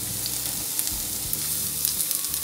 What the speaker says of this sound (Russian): И обжариваю лук.